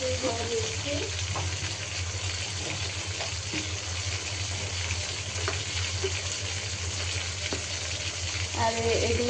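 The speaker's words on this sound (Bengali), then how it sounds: "এখন এই যে আমি মশলাটাকে এখানে ভেজে ফেলছি।" Spices frying in a pan for a dish of pumpkin greens with shrimp, a steady close sizzle with occasional stirring clicks and scrapes, a voice talking faintly over it.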